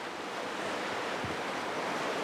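Ocean waves wash steadily in a small kelp bay thick with Alaria seaweed, a continuous broadband rush of surf with wind, fairly distant and even, with no voices.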